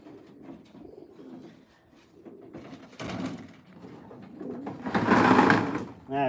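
Racing pigeons cooing as they are basketed for a race, with repeated soft coos near the microphone and louder fluttering rustles at moments, under occasional talk.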